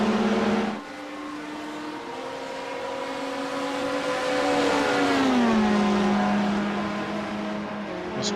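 Porsche race cars in an iRacing Daytona 24 Hours race, a loud sustained engine drone whose pitch climbs and then drops as a car shifts and passes, with a steady engine tone continuing beneath.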